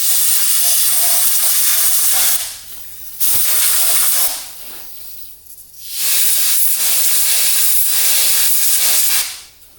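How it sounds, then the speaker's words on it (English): Air hose blowing dirt off a 25HP Yamaha outboard motor on a jon boat, several loud sustained hissing blasts separated by short pauses, close and with no talk. "clean these out a little bit with the air hose"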